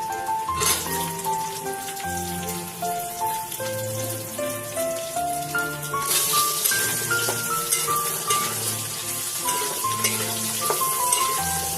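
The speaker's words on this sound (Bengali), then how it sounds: "এখন আমি এতে আলুটা দিয়ে দেবো, এর সঙ্গে আলুটা ভেজে নেব হালকা।" Potatoes fry lightly with browned onions in a pan for soyabean pulao, a continuous crackling hiss running under louder background music.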